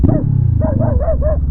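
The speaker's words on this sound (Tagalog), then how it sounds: "Grabe, aso oh, tapang." A dog barks repeatedly at someone along a roadside near a house on a rural bypass road project, four or five close, sharp barks in quick succession.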